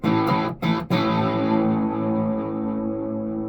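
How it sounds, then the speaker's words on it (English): An LTD MH-201 electric guitar on the bridge pickup through an Ignator tweaker amp, gain near 11 o'clock, no distortion engaged, rings loud and sustained, a chord struck twice quickly then fading, gritty but not fully saturated. "It's fairly distorted without even actually engaging the distortion."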